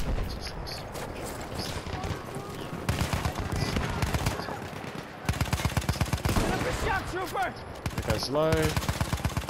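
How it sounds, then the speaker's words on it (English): Rifle fire crackles in a World War I shooter match on the Argonne Forest map, with a Martini-Henry shot among several sharp, fairly close reports and bursts spread across the stretch while players talk over it. "Oh, what was that? Martini Henry"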